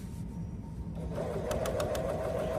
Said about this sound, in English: Sew using a 1/4-inch seam allowance along all 4 sides of the quilt.